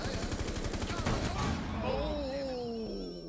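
Gunfire in Rainbow Six Siege, a rapid burst of loud close shots that fades into ringing tones, with a player talking over it.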